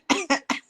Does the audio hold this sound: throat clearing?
yes